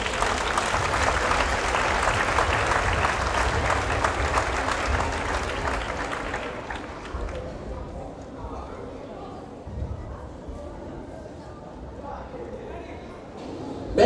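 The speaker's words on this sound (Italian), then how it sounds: "Un bel applauso!" Audience applause at a gymnastics show, loud clapping that fades after several seconds into a quieter room with shuffling and a voice speaking.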